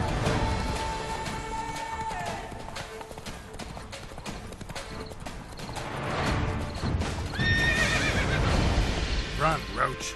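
A horse galloping in The Witcher 3: Blood and Wine, its hooves clip-clopping in a steady rhythm close by, with a whinny and other game sounds mixed in.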